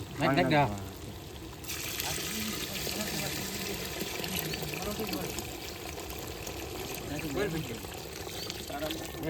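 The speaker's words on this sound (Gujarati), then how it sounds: "પાણી હજી નાખવું પડશે" Water pours steadily into a pan of whole-onion curry with a broad splashing rush, continuing under a man's speech throughout.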